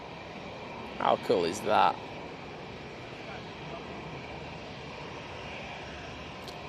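An Etihad jet airliner climbs out on departure from Manchester Airport, a steady, distant broadband roar that holds evenly throughout, with a person briefly talking over it near the start.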